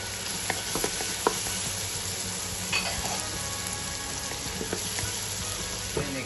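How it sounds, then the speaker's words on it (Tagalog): Chopped onion and garlic sauté in a hot pan with a steady, close hiss. Occasional light clicks of a utensil against the pan come through; no one speaks. "So, magigisa lang tayo ng ating onion. Then, garlic."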